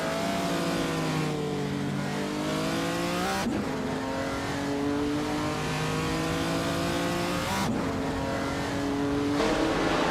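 A 1959 Maserati Tipo 61 Birdcage race car in a racing video game, its engine revving loudly and climbing through gears with sharp shifts, rising and falling pitch over steady track noise.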